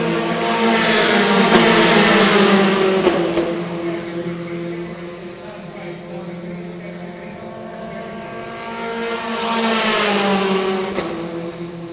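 Formula 4 single-seater race cars on a circuit roar past in two loud waves, engines rising and falling as they approach and pull away, with a quieter lull between passes.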